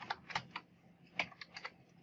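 Light, irregular key taps on a computer keyboard while typing into a search box: a handful of quick, close strokes in short bursts, fairly quiet, with no talking.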